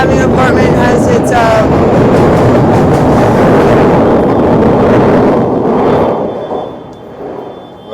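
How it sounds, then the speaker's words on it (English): A loud train passes close by, a heavy rumbling roar with wind buffeting that holds for about six seconds, then fades away as it recedes. "Loud train."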